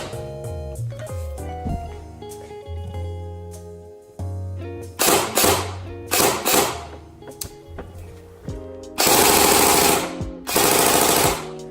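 Classic Army DT-4 double-barrel M4 airsoft gun firing in loud, crisp rattling bursts of rapid shots, heard over background music with a couple of longer sustained volleys near the end.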